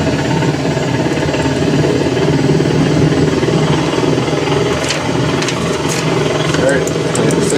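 A helicopter engine runs as the throttle is brought up to 100% during a start checklist, a loud steady mechanical drone with vibration and occasional clicks, while a voice talks over it.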